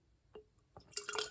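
Olive brine spills and drips while a martini is being poured. Faint, separate drops and small splashes come first, then a brief wet trickle, all close by and quiet.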